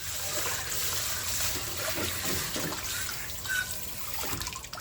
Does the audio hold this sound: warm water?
yes